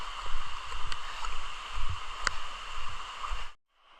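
Water rushes in a constant broadband wash at a waterfall in misty, rainy hill country near Nuwara Eliya, with a few knocks and rustles, before cutting off abruptly near the end.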